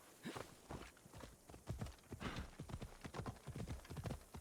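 A horse's hooves clip-clop at a quick, even gait in the Assassin's Creed Odyssey video game, a dense run of close hoofbeats playing alone without any voice.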